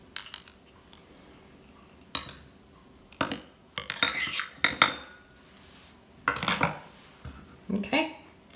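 Metal spoon scraping and clinking in a Ninja Creami tub while scooping thick, soft-serve-like vegan chocolate ganache ice cream, in several short bursts close to the microphone.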